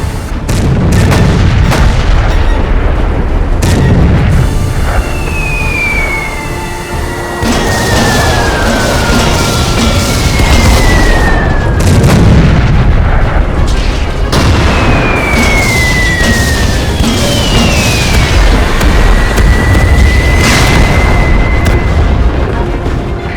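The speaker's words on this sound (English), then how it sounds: "Artillery, fire on the smokescreen." Artillery fire on a smokescreen in an animated tank battle: loud, continuous barrage of booming blasts with several descending whistles of incoming shells.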